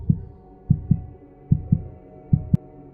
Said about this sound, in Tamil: அருணோட ஹார்ட் பீட் ஃபாஸ்டா ஆன மாதிரி ஃபீல் பண்றான்.